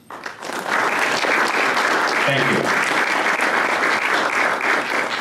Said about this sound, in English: can we please give all of the professors in the department and Dr. Pack a round of applause